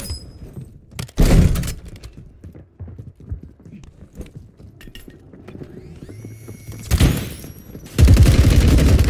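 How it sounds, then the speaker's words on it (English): Gunfire in Warzone, with loud bursts of shots at intervals among quieter clattering and footstep-like noises, and a final sustained burst at the end. "Taking effective fire!"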